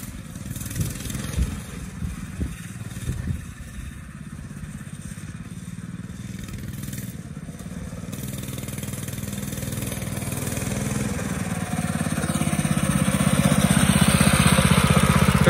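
The 196cc engine of a Coleman RT200 mini bike runs throughout, a mid-pitched buzzy drone that swells steadily louder and more strained toward the end, with a few faint voices early on.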